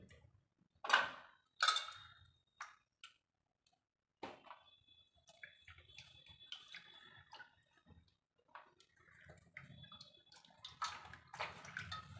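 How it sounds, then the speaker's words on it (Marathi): Alphonso mangoes are washed in a bowl of water, with soft, intermittent splashes, drips and light knocks, quiet and close. "तर मी इथे हापूस आंबे पाण्यामध्ये आधीच टाकून घेतलेले आहेत, तुम्ही बघू शकाल. छान स्वच्छ धुवून घेते."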